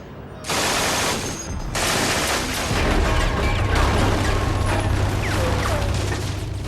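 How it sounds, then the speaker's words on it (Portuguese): Loud bursts of extremely rapid automatic gunfire from an MG-42 machine gun, the shots blurring into a continuous ripping roar, followed by sustained rattling fire and echoes. "A MG-42 é tão rápida que não se pode ouvir seus tiros individuais."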